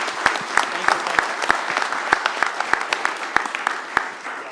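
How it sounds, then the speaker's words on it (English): Sustained applause from an audience at a Rome, Georgia city commission meeting, dense steady clapping with sharper individual claps standing out, continuous throughout with no talk over it. "Let's give these guys a round of applause."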